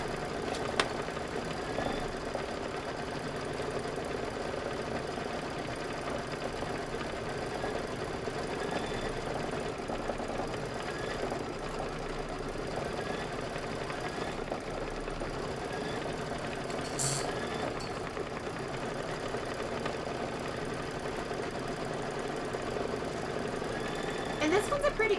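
Embroidery machine stitching down the handles on a mixer design in brown thread, a continuous, even mechanical whir with faint tapping that runs steadily throughout.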